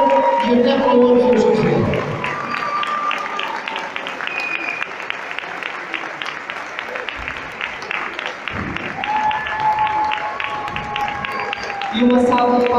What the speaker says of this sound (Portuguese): vamos agradecer em pé, com uma grande salva de palmas